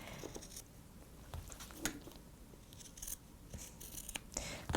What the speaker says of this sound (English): I'm going to trim a little bit more away here.